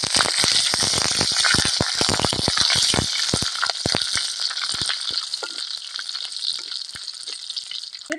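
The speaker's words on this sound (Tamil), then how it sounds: "கடுகு பண்ணிட்டு கருவேப்பிலை போடுறேன்." Mustard seeds and curry leaves sizzle in hot oil while tempering oil brinjal kuzhambu: a dense, close crackle with sharp popping bursts at first, settling into a steadier hiss.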